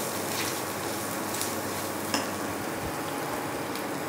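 Banana flower cutlet mixture with chili and pepper being mixed in a pan, a steady low sizzle under quiet scraping stirs, with a sharp clink of the utensil near the middle.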